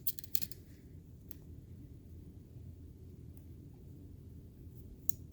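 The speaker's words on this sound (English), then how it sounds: "I'm going to cut my yarn here" Scissors cut yarn after a crocheted hat is finished: a couple of quick, crisp snips at the start and again near the end over a low, steady background rumble.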